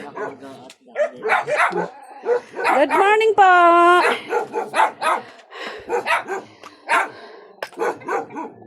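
A dog barks repeatedly, including a drawn-out whining bark, mixed in with people talking nearby.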